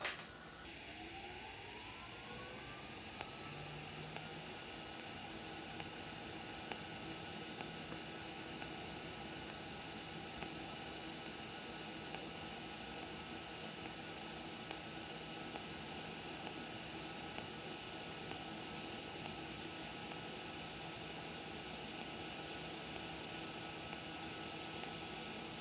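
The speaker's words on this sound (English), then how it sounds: "Let's go ahead and weld down the other side." A TIG (GTAW) arc hisses steadily while welding a lap joint at about 120 to 125 amps. The even, continuous hiss runs unbroken with no talking.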